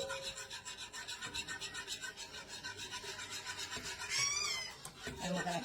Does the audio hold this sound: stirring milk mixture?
yes